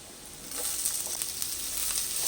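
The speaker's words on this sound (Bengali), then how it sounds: "এবার আমি এর মধ্যে পেঁয়াজ কুচি দিয়ে দিচ্ছি" Chopped onion dropped into a pan of frying potatoes, the sizzle jumping louder about half a second in and then holding as a bright, steady hiss, close up with no talking.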